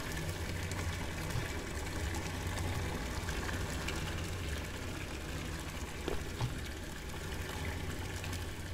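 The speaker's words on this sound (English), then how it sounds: "here comes the water" Rushing water flowing steadily through a Doom-style level in a video game, a continuous broadband wash with a low rumbling undertone, fairly loud and unbroken throughout with no voices.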